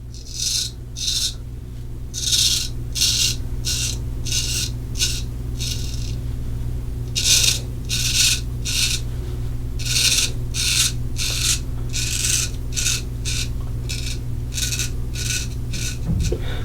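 A straight razor shaving a sideburn gives close, crisp rasping strokes in quick bursts, grouped in runs with short pauses between, over a low steady background hum.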